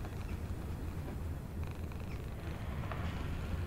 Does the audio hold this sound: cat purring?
yes